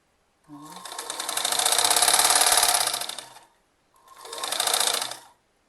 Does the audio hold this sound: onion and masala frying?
no